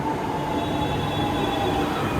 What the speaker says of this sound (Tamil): இப்போ ஏர்போர்ட் மெட்ரோ வந்து கொண்டிருக்கு பாருங்க